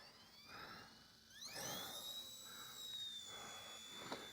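The small electric motors of an RC ERA C138 stunt helicopter spin up for an automatic outdoor takeoff over snow, a high whine that climbs sharply in pitch and then settles into a steady, fairly quiet hum.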